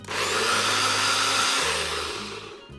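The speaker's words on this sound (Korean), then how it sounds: "믹서기로 살짝만 후룩 갈아줄게요" A blender grinds chopped tomatoes and chili peppers for salsa in a single loud, steady whirring burst of about two and a half seconds, with the motor pitch shifting partway through before it cuts off.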